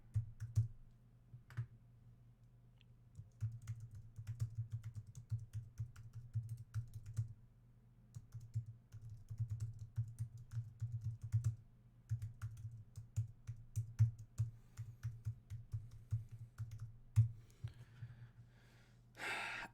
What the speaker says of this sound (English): Let me turn on my keyboard here.